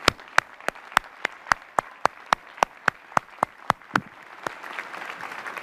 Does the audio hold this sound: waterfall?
no